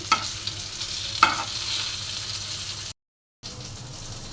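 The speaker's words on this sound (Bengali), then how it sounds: "আর এদিকে মাছ ফ্রাই করে নিচ্ছি।" Fish frying in a pan at home, a steady close sizzle with a couple of sharp spatter pops near the start, continuing after a brief silent gap.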